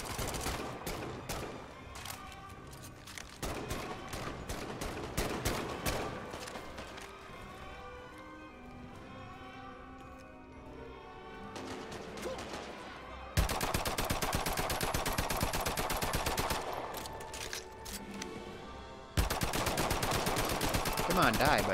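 Gunfire in the Medal of Honor: Above and Beyond VR video game: rapid volleys of shots are mixed with a voice early on, then a brief lull, then loud, sustained automatic fire in the later half.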